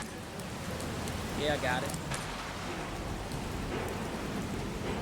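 Steady rain falls throughout a Resident Evil Requiem game scene, a dense even hiss of drops on surfaces, with someone speaking briefly over it.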